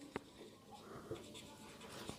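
Pen or marker writing on a board during a class 8 mathematics lesson on squares and square roots, faint scratchy strokes with a few sharp taps, quiet and close, with no voice over it.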